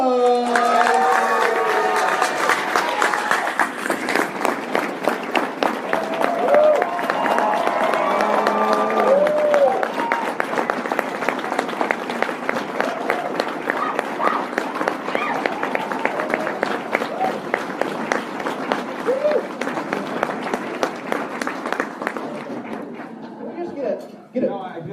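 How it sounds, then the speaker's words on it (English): A convention panel audience cheers and applauds loudly, a dense crowd roar with sustained clapping and whoops that carries on steadily and then cuts off. "we're going to need lots of cheering, lots of applause"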